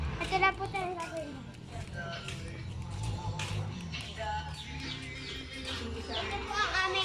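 A pet myna bird chirps and whistles in short bright calls inside a house, mixed with children's voices and chatter that run through most of the sound.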